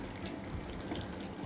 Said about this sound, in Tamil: கொஞ்சம் தண்ணி விட்டு